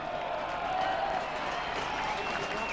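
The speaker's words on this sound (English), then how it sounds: "the crowd at the far side there just giving Mark Milner a round of applause for his work in that try" A crowd applauds at a 1994 Batley versus Keighley rugby league cup match on a windy day, the clapping and faint cheering distant and steady across the ground while a commentator talks over it.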